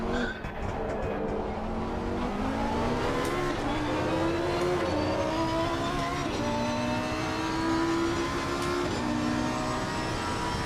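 A Lamborghini Huracan ST EVO 2 race car at Monza in a racing video game, its engine droning steadily at high revs against the rev limiter, with pitch rising gradually and no talk over it.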